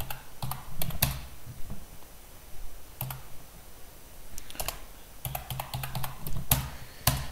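Clattering keystrokes on a computer keyboard come in quick irregular clusters separated by short pauses, close and moderately loud against a quiet background, with no talking.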